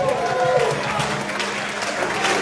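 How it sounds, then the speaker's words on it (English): Steady crowd applause fills the space at a polka festival at St. Stanislaus Parish in Amsterdam, New York. It is loud and continuous and is given for Zach, a young clarinet player. "Let's give him a nice round of applause."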